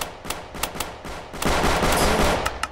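Gunfire from a gun in the Road to Grambys video game, a string of sharp single shots at irregular intervals, then a dense rattling burst, close and loud.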